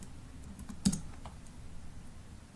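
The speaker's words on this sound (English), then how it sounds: "Type out our basic HTML5 document structure." Typing on a computer keyboard, a quick cluster of close, light key clicks with one sharper tap, faint and alone over quiet room noise.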